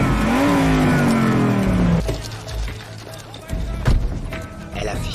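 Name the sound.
car driving in a video game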